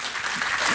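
Crowd applause at a rodeo event for the million-dollar winner, a brief burst of dense, continuous clapping at moderate level with no talk over it.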